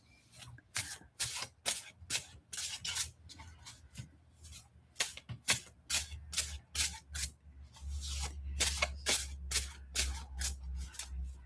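Close, crisp riffling and flapping of a tarot deck being shuffled repeatedly in quick bursts, with a soft low hum underneath.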